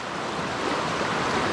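A small mossy river with little waterfalls and pools rushes past, a dense, steady roar of flowing water close by with no voices.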